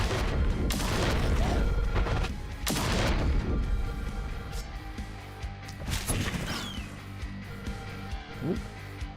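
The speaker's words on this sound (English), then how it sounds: "Let the carpet bombing commence" Carpet bombing in the video game The Last Spell: a series of heavy, near explosions with deep booming crashes, several big impacts spaced a couple of seconds apart and fading into rumbling debris.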